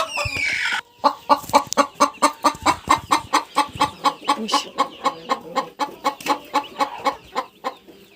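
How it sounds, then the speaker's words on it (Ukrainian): A hen cackles loudly and close after laying an egg, a long run of rhythmic squawks about twice a second that slowly fade, preceded by a short burst of other sound. "Курочка знеслася, кричить"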